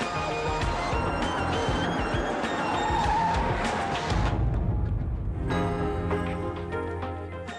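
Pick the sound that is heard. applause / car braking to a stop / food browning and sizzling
car braking to a stop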